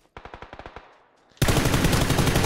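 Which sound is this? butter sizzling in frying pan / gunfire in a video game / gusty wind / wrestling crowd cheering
gunfire in a video game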